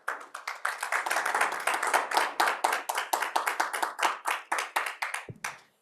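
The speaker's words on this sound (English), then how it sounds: "We need to clap for Africa." Hands clap in a steady, brisk rhythm at a conference on women's rights in Africa, a few close claps repeating evenly for several seconds before slowing and stopping, with no talk over them.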